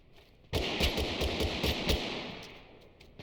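Rapid bursts of automatic gunfire in the battle-royale game Totally Accurate Battlegrounds, a loud close string of shots for about a second and a half that then trails off into echo.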